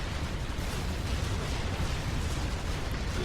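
Demolishers and tanks destroying bots in Supreme Commander 2, a continuous dense roar of blasts and explosions with no clear breaks, loud and steady throughout.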